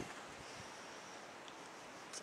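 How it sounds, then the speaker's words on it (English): Strong wind blows outdoors under gathering clouds before a storm, a steady broadband roar buffeting the microphone, faint overall and continuous for a couple of seconds. "Very windy and cool."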